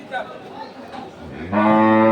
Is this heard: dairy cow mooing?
yes